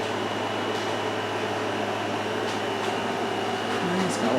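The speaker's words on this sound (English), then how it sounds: "It's got a little air conditioner in here." A small room air conditioner runs with a steady, moderately loud hum and whoosh that fills the space, with faint clicks and shuffles over it.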